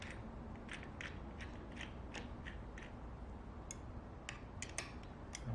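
Bolts being tightened on the outer ring of a BattleBot chain planetary gear, heard as a series of faint, close mechanical clicks and ticks at an uneven pace over low background noise, with no voices.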